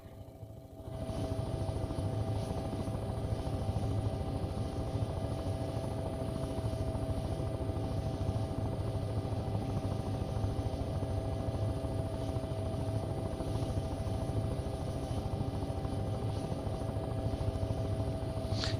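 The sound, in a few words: helicopter landing on a pad in the video game Take on Helicopters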